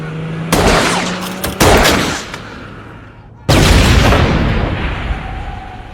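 Gang members open fire on a moving van, and loud close bursts of gunfire erupt in sharp, dense volleys, with a brief lull before another heavy barrage.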